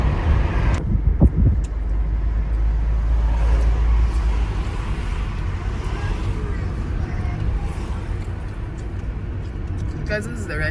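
A car drives through the streets of Harare, a steady low engine and road rumble heard from inside the vehicle, with people talking throughout over the traffic noise.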